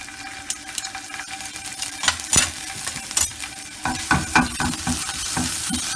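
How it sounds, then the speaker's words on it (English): Crushed garlic and ginger hit hot oil in a pan and sizzle close by, with a bright crackling hiss, scraping stirs and clinks of a utensil growing busier toward the end. "once the oil is heated, I'm gonna put the crushed garlic"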